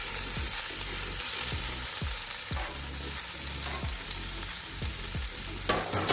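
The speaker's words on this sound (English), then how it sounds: "You hear that sizzling already, and then all the peppers and onions." Peppers and onions sizzle loudly on a hot griddle, with a steady crackling hiss and repeated scraping clanks of a utensil stirring them.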